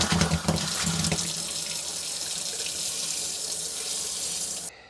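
A tap runs steadily as water is turned back on after an anode rod change on a water heater, with a sputtering, splashing gush at first, then a constant hiss that cuts off near the end.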